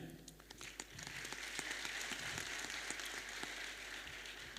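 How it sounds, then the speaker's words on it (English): Faint, distant audience applause at an investment panel event, a soft continuous hiss of many hands clapping with a few sharper claps mixed in. "A big applause to my friend here."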